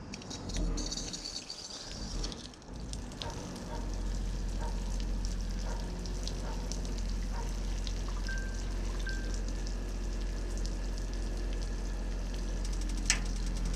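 Water runs steadily from an on-demand hot water heater set up at a camp, a constant rushing flow with faint clicks and ticks over it, preceded by a brief burst of handling noise at the start.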